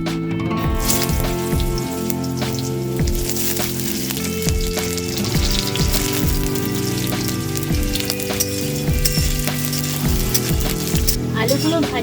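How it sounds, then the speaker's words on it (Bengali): Potatoes sizzle in hot refined white oil without salt or turmeric, a continuous frying crackle sitting under steady background music. "লবণ হলুদ ছাড়া আমি আলুটা ভেজে নিচ্ছি।"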